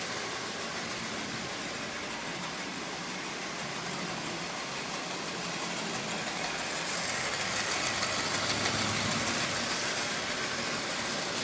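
A Lionel 8902 model train shell fitted with a Marx single reduction motor runs on track pulling about ten Lionel cars, a steady whirring motor with a broad, continuous hiss that grows a little louder toward the end.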